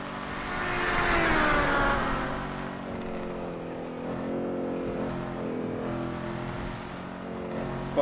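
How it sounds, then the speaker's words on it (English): Engine of a Lampadati Corsita sports car, modeled on the Maserati MC20, in a driving video game: a revving roar that swells early, then settles into a steady moderate drone. "this engine sound makes this thing sound fucking mean"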